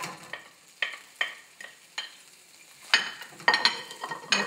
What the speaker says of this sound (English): Mix it, stir fry it for about 2 minutes or so on medium heat.